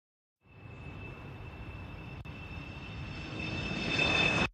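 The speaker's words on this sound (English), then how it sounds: "I think I hear the helicopter." A helicopter's engine drone starts after a brief silence and holds steady, then swells louder toward the end as the aircraft approaches.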